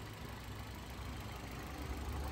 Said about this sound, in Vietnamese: Máy nổ thì thầm luôn, máy đang nổ điều hòa anh em này